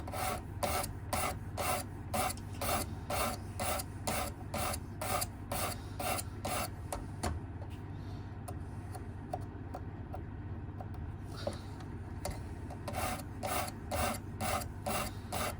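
A knife blade is drawn across the abrasive stone of a Work Sharp Precision Adjust sharpener, giving rhythmic rasping strokes, close and fairly quiet, with a brief pause midway before the steady back-and-forth resumes.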